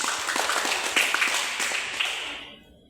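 A small group claps in a catechism class, a brief burst of several seconds of uneven hand claps that fades out toward the end.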